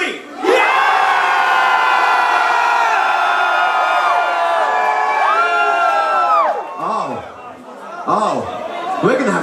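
A concert crowd at a show in Southampton's Engine Rooms cheers and screams loudly in a sustained, many-voiced roar that holds for several seconds, then fades into scattered whoops and shouts.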